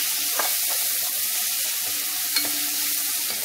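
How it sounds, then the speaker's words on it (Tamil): Onions sautéing in a pan for potato rice, a steady close sizzle with faint spatula scrapes at a couple of moments, no voices. "வெங்காயம் நல்லா வதங்கட்டும்"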